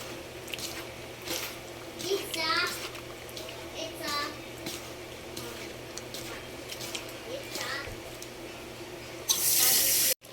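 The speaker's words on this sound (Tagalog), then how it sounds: "Hugasan muna natin ng suka yung tuna." Running tap water splashes over raw tuna being washed with vinegar in a sink, a steady moderate stream with a few louder gushes, and a voice speaks briefly over it.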